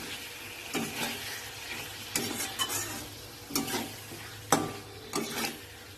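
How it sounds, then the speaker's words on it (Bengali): Chili powder and spices frying in a pan for a spicy chicken kosha, a continuous sizzle with repeated bursts of spatula stirring and scraping in uneven rhythm, close up and without speech. "এবার এটা দিয়ে কষিয়ে নিই কিছুক্ষণ, মশলাগুলোতে একটু কষিয়ে নিই"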